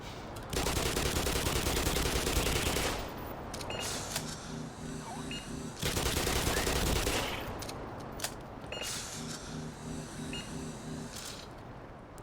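Rapid submachine-gun bursts in the video game Black Mesa, two long loud stretches of continuous firing, each followed by quieter game sounds and electronic beeps.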